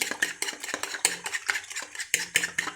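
A fork briskly whisks food in a bowl in a home kitchen, making rapid, rhythmic metallic clicks and scrapes, close and continuous with no speech.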